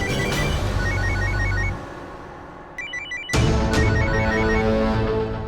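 A telephone rings with repeated electronic trilling bursts, pausing briefly before ringing again, fairly loud over a low background hum.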